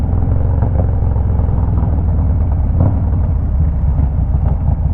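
A 2016 Harley-Davidson Dyna FXDL on the move, a steady low engine rumble mixed with wind buffeting at the microphone, continuous and close with no talk.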